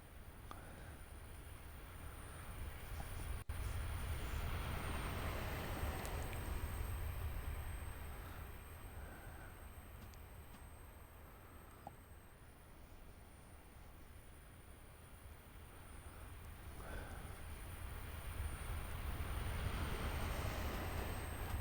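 A train runs in Train Simulator Classic, heard from outside as a steady low rumble that gently swells and eases over about twenty seconds, with no one talking.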